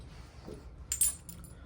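A metal drum key drops onto a hard surface, giving a brief, faint clink and small rattle over quiet room tone.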